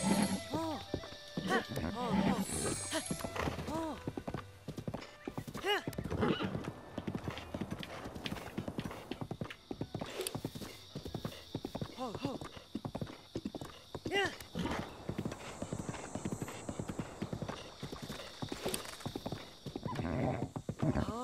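A horse in the video game Zelda: Breath of the Wild gallops with steady rhythmic hoofbeats and lets out whinnies, loud and close throughout, while a person talks excitedly over it.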